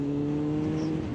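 Kawasaki ZX9R motorcycle engine holding a steady throttle note, a brief close-up hum from the ride.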